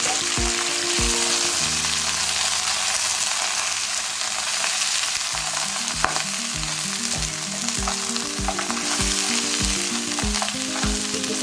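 Crab fries in a pan with garlic, a loud, continuous sizzle up close, joined by steady rhythmic stirring and scraping, with no talking.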